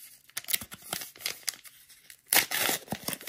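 Wrappers of Star Wars Unlimited Spark of Rebellion booster packs tear open in sharp, close ripping bursts mixed with crinkling foil. A louder, longer tear lands near the end, with quiet gaps between.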